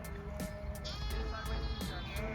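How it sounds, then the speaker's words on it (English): Sheep bleat repeatedly at a farm, several wavering cries overlapping at close to moderate distance over a steady outdoor background. "See, these are sheep right here, and that's a goat."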